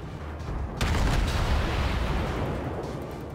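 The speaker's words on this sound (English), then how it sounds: "He's got a huge barrage coming for me now." Naval shell barrage from a ship in World of Warships, a deep sustained rumble of booming gunfire that swells loudly and keeps rolling in a heavy, continuous wash.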